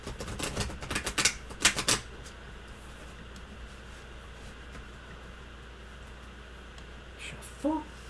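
Tarot cards being shuffled, a quick run of crisp riffling flutters close by during the first couple of seconds, then quiet room hiss with a faint knock near the end.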